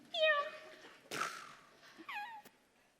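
On stage in a theatre production, a human voice mimics a cat's meow with a rising, wavering cry, followed by a short whooshing noise and a second, softer meow-like call.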